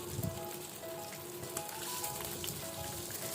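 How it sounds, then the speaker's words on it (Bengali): Rupchanda pomfret fish deep-fries in hot oil, giving a steady crackling sizzle with scattered pops, close and continuous without any voices. "এইভাবে আমি উল্টে পাল্টে 2-3 বার করে ভেজে নিব, কারণ এই রূপচাঁদা মাছটা কিন্তু ডিপলি ফ্রাই করলেই খেতে ভালো লাগে"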